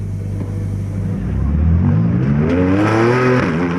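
Race car engines in the pit lane at Nogaro circuit during a racing event, a loud close engine note that climbs steadily in pitch as a car accelerates away.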